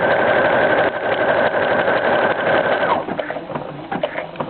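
A sewing machine stitches a buttonhole automatically, running as a loud, fast, steady mechanical whir up close, then easing into slower, uneven stitching toward the end.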